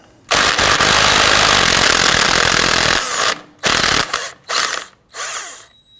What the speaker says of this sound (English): we're going to use a 13mm socket, loosen and remove the axle nut